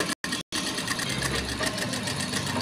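A sewing machine runs a steady, continuous stitch through four round pillow fabric pieces, close and loud, with two brief pauses near the start and no talking.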